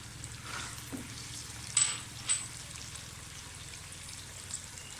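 Garlic dropped into hot oil in a pan alongside small cinnamon sticks while cooking chicken korma, giving a soft steady sizzle with a few brief splashy bursts, fairly quiet and close.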